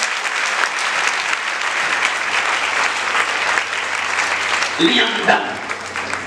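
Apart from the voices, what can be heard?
congregation applauding the Holy Spirit at church service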